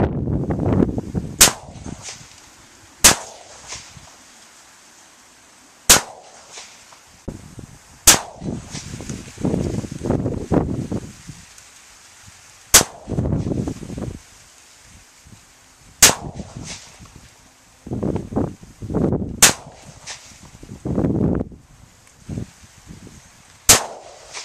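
Repeated 5.45x39mm rifle shots fired at a target 50 yards out near an earth berm, about eight sharp loud cracks spaced irregularly over the span, with quieter handling and rustling noises between them.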